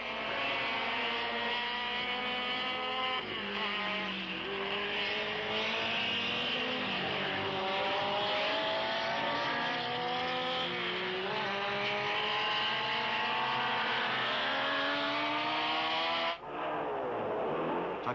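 1972 Nissan GT-R and Mazda Savanna RX3 race cars roar through the Fuji Masters 250 km race, engines revving and shifting continuously as several cars pass close, with a brief dip near the end.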